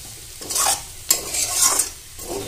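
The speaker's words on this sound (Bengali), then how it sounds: "শাকটা সেদ্ধ হয়ে গেছে, এবার আমি হাই ফ্লেমে রেখে পুরো শুকিয়ে নিচ্ছি।" Bottle gourd greens stir-fried in a pan on high flame, with bursts of scraping stirring strokes over a soft sizzle, close and alone.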